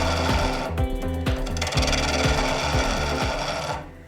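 A wood lathe spins as a tool trims down the rounded head of a turned wooden penguin, giving a steady loud machine hum with rhythmic scraping and rubbing cuts that stop abruptly near the end.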